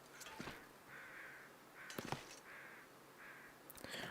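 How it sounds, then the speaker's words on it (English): Crows in the snowy wilderness of the survival game The Long Dark give several separate caws, some doubled, spaced out over a few seconds against a quiet windy background, moderately distant. "I can hear crows, which I hope is a good sign"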